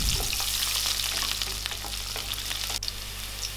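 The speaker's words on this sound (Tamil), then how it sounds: "அப்புறம் இதில் கொஞ்சம் கருவேப்பிலை போட்டு இதெல்லாம் பொரிய விடலாம்." Curry leaves and whole spices frying in hot oil for a chickpea curry, a loud steady sizzle with crackling pops and one sharp spatter near the end, with no talk.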